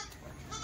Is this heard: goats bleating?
yes